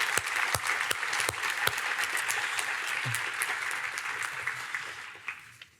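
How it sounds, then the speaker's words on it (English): Audience applause for two guests at a community meeting on culturally relevant meals and diverse farming, a steady wash of many hands clapping with a few sharp close claps, fading toward the end. "just want to give you all a round of applause"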